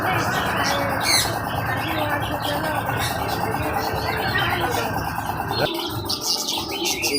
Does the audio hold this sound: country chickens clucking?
no